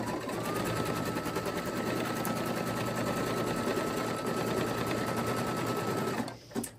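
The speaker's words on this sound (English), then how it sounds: "So now it's tacking that piece of patch twill fabric down." An embroidery machine tacking down patch twill fabric, a rapid, continuous mechanical stitching chatter at close range that runs steadily before stopping near the end.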